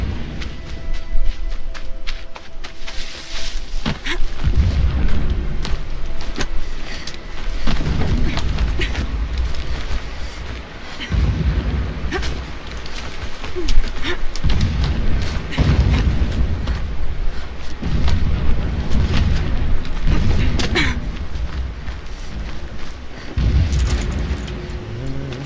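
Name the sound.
distant explosions in video game Horizon Zero Dawn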